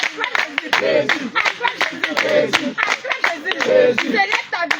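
A church congregation at a water baptism service in Côte d'Ivoire claps in fast, lively rhythm, loud and close, while a voice leads over the clapping.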